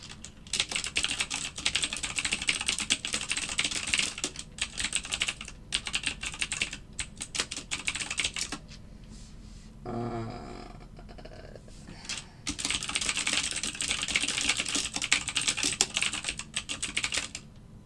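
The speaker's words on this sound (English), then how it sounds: "It's a mechanical keyboard." Fast, clattery keystrokes on a mechanical keyboard fill most of the stretch, pausing briefly midway for a short mechanical hum before resuming.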